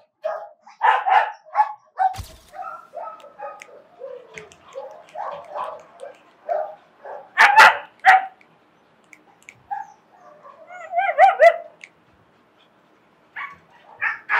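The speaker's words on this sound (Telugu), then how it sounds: "దీని పేరు లీసా, ది గ్రేట్ డేన్." A Great Dane at a dog training and boarding facility barks in scattered bursts over about fifteen seconds, with short gaps of quiet, some yips and whimpery sounds mixed in, fairly close.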